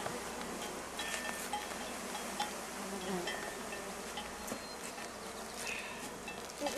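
Honey bees buzzing densely in a backyard hive being worked, a steady close swarm drone with overlapping individual buzzes passing near, continuous throughout.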